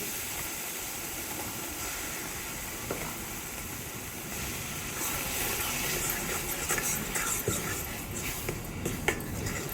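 Steady hiss and crackle of mashed vegetables hitting frying masala in a pan for Khandeshi-style pav bhaji, a continuous bright sizzle with faint scraping and stirring knocks throughout.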